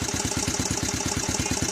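A Yamaha Vixion motorcycle engine runs in a fast, even, throbbing rhythm, loud and close, with steady pulsing firing beats throughout.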